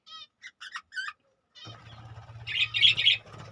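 Budgerigars chirp nearby in a cage: a few short high tweets at first, then after a pause a busier stretch of chirps and squawks over a low hum and fluttering rustle.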